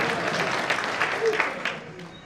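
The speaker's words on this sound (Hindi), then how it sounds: "जब समझ में आए तब तालियां बजाओ" An audience at a village fair poetry gathering applauds, a moderate, steady wash of clapping from a crowd that fades slightly toward the end, with a voice faintly audible underneath.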